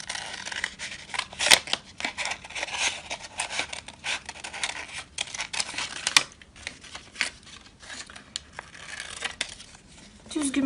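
Scissors cut out a paper heart for a Mother's Day door decoration, giving irregular crisp snips and rustling paper up close across several seconds.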